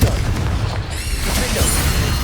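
A Confringo blasting spell explodes in Hogwarts Legacy. A loud, broad boom fills the whole moment, and its rumble sustains without a pause and no clear speech.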